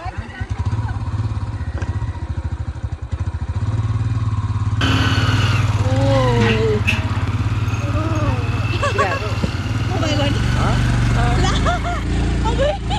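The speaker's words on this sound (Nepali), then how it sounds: "जान्छ बाइक" A motorcycle carries riders with children along a road, its engine droning steadily and loudly throughout, with voices talking over the ride.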